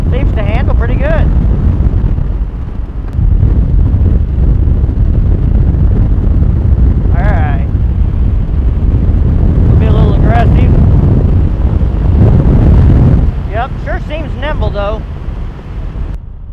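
Heavy wind buffets a rider on a Honda Pacific Coast 800 motorcycle cruising around 40 mph: a loud, constant roaring rush that drowns out the engine, with a voice talking over it in short bursts.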